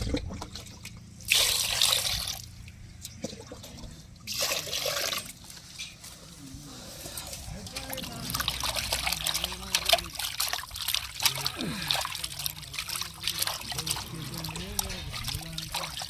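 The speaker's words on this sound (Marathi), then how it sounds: "परत एकदा आपण हिला साध्या पाण्याने धुवून घेऊ" Cooked tripe (vajadi) being rinsed under a running kitchen tap, with water trickling and splashing into a sink in bursts, and a voice talking intermittently over the steady flow.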